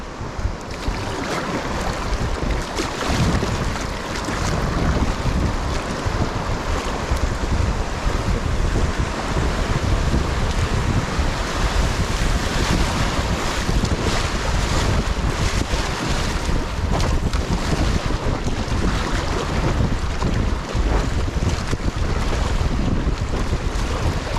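A raft paddling through whitewater waves near Jackson Hole, with a constant loud roar of rushing water and heavy wind buffeting the microphone for the whole stretch, and no voices.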